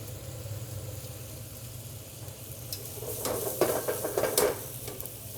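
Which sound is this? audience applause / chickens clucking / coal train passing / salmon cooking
salmon cooking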